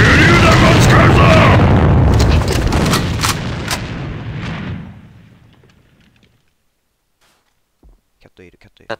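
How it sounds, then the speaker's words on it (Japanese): In the online shooter AVA, a loud, dense roar of grenade blasts and gunfire fills the first few seconds, then fades into near silence broken by a few faint clicks. "敵の手榴弾、手榴弾を使うぞ"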